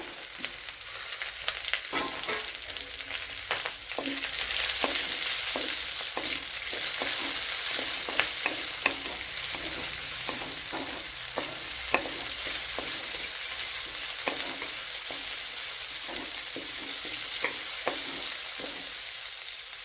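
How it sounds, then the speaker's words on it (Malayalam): Medium sliced onion frying with browned garlic in a pan for a brinjal curry, a steady sizzle punctuated by frequent sharp spatula scrapes and knocks, with no talking. "അതിലേക്ക് ഇനി ഒരു സവാള ഒരു മീഡിയം സൈസ് ഒരു സവാള കട്ട് ചെയ്ത് ഇട്ട് കൊടുക്കുക"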